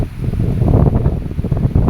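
Strong wind buffets the microphone on Dreamland Boulevard in Amlan, Negros Oriental, Philippines, in a steady, rough rumble with gusty surges, and no voices.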